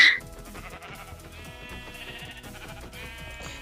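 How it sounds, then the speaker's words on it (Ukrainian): A Minecraft sheep gives one short bleat at the very start, then game music and soft footsteps continue underneath. "я бачу ще одну вівцю"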